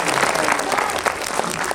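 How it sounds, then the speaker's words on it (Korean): Audience applause at a Korean film screening Q&A with the cast, a brief burst of dense clapping from a packed theater crowd, loud and close throughout. "여러분 박수 한번 주세요."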